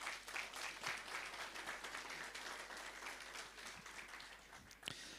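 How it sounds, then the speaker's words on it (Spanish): A church congregation at a Sunday service applauds a singing group, a faint, steady patter of many hands heard from a distance, with a few sharper claps near the end. "Una vez más, por favor, vamos a dar fuertes aplausos."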